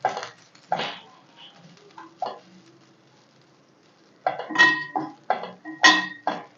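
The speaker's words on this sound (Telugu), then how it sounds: "ఇలా ఫ్రై చేసుకుంటూనే ఉండాలండి" Drumstick leaves frying in a pan, stirred so a utensil clinks and scrapes against the pan in short bursts, with a quiet gap in the middle before a busier run of clatter.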